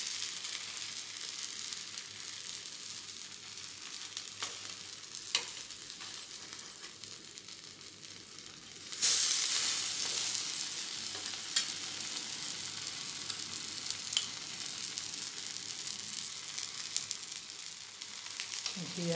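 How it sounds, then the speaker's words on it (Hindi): A bread slice toasting on a pan, turned to its other side over medium-low heat, gives a faint, steady sizzle that grows noticeably louder partway through, punctuated by a few soft clicks and scrapes. "अब हम इसे दूसरी तरफ से सेक लेंगे, मीडियम लो पर"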